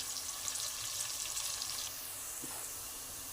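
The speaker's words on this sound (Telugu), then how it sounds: "సన్నగా తరిగిన రెండు చిన్న ఎర్రగడ్డలని ఇందులో వేసుకుందాం రెడ్ కలర్ షేడ్ వచ్చేదాకా బాగా ఫ్రై చేసుకుందాం" Thinly chopped small red onions fry in a pan, giving a steady, moderately faint sizzling hiss with no talking. The hiss softens slightly partway through, with a faint tap near the end.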